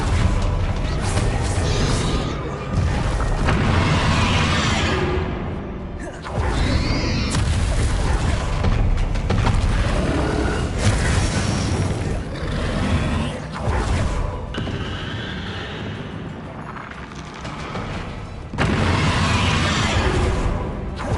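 Repeated heavy blasts from Confringo and Bombarda spells in a Hogwarts video game, loud and dense, with brief gaps between bursts.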